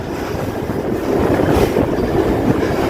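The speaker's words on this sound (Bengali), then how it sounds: "তার মধ্যে দিয়ে আমরা রেল ছুটে চলেছি" A local train runs from Sealdah to BBD Bag, a steady loud rumble of wheels and carriage noise with wind rushing past throughout, growing slightly louder midway, no voices.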